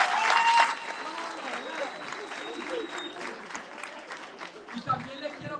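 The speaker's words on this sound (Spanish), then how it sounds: "Un aplauso, le damos un aplauso." A small group claps at a citizenship clinic, beginning with a brief loud burst and continuing as lighter scattered clapping mixed with voices and background chatter.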